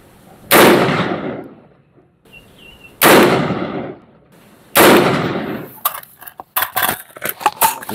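Three loud rifle gunshots ring out outdoors while a scope is zeroed, each a sharp crack with a decaying tail a couple of seconds apart, followed by lighter clicks and handling noises.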